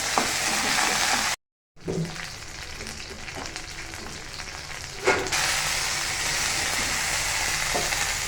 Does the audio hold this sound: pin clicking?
no